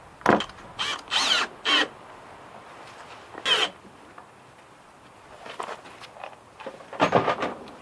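A cordless drill drives a screw into a chicken nest box in several short, separate bursts of whirring. Each burst is close and moderately loud, with quiet pauses between them.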